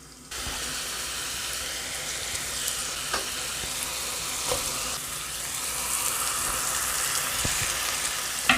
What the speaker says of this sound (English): Now time to add our garlic, our onion, and our celery to the pot.